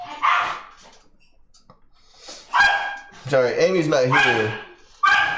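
Dogs bark and yip in short bursts in a home while they scuffle with a cat, the barks rising loud and close between stretches of a person talking.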